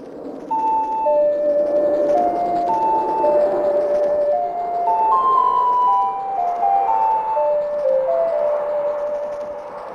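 A melody from the Zelda game Majora's Mask plays as a slow ocarina tune, clear sustained single notes stepping up and down over a soft continuous backing, steady and prominent for about ten seconds.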